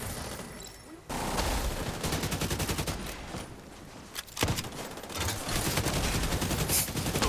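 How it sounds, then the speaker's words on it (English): Rapid automatic gunfire in a video game, fired at the ground, loud dense bursts running almost continuously with a short pause near the middle. "It's like I was shooting something on the ground."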